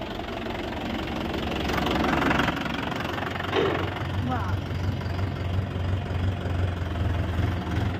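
Tractor engine running close by, a steady low chugging and knocking idle rumble that grows heavier partway through, with people talking over it.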